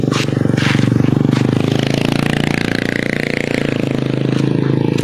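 A motorcycle engine running close by, a loud buzzing drone with rapid pulsing and a slight rise in pitch midway, continuous for the whole stretch.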